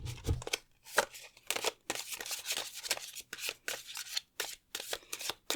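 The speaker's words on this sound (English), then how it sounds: "I wanted to shuffle through everything first" Tarot cards being shuffled by hand at close range, a steady run of crisp riffling and slapping bursts with short pauses between them, no voices.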